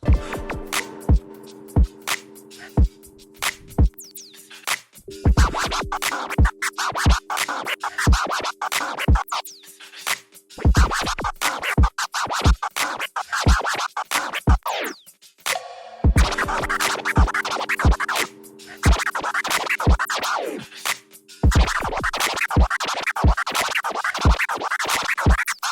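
A DJ plays crossfader scratch combos of baby scratches and two-click flares over a steady beat, the choppy scratched record sounds riding loudly on a thumping drum pattern with one brief break partway through.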